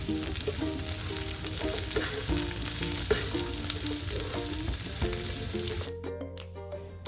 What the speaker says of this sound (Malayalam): അതും കൂടി നമുക്കിതിലേക്ക് ആഡ് ചെയ്തിട്ട് ഇളക്കി കൊടുക്കാം